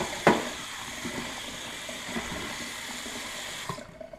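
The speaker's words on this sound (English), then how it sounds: "Then just rinse in some cold water." Diced squash rinsed under cold tap water in a home kitchen while making chicken soup, a steady close water rush running throughout with a few small splashes and clunks, stopping abruptly near the end.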